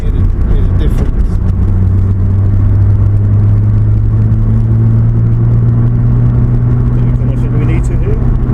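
Toyota Supra Mk4 cars with 1JZ and 2JZ inline-six engines driving down a road side by side, giving a loud, continuous engine drone with deep rumble and steady whir throughout.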